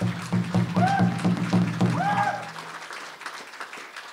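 A crowd applauds a Native American color guard at a library awards ceremony with scattered clapping, while a low tonal hum and a few cheering whoops sound over it before the clapping thins out.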